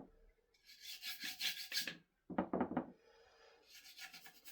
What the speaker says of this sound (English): we'll just put a decent layer of wax in there, just to help lubricate it really